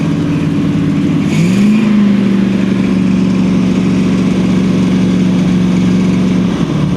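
A 1979 GMC C35 camper truck engine runs loud and close as the gas pedal is held lightly, the revs rising briefly then settling into a steady raised drone for several seconds before dropping near the end.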